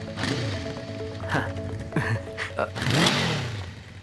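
A motorcycle engine starts and idles with a steady low hum, its pitch rising in a few revs, while people talk nearby over it in a street scene from a Hindi-dubbed film.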